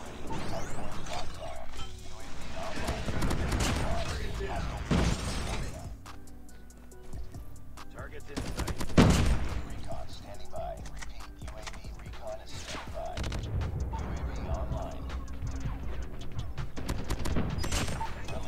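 Hip-fire gunfire from a weapon in COD Mobile, the video game, in rapid mechanical bursts through most of the stretch, mixed with game effects and mostly masked by talk.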